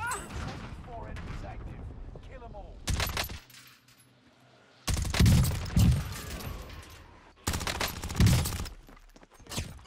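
Bursts of gunfire from a Core P5 loadout in a shooter video game, three loud separate volleys with quieter gaps between, while a player talks over the early part.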